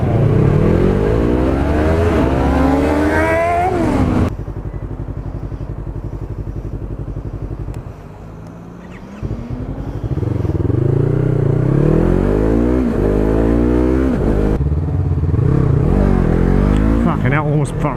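A motorcycle roars through a drag race to 60, engine revving loud and close and climbing in pitch through the gears, with a brief dip before it pulls hard again.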